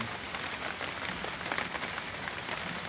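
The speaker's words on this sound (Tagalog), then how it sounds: "Naabutan ako ng ulan." Steady rain patters on surfaces nearby, a constant hiss of drops with no voices.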